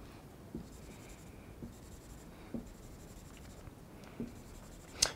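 Pen or marker drawing a molecular orbital diagram for 1,3,5-hexatriene by hand, a faint continuous scratch with four soft taps spaced about every second or two and a sharper click at the end.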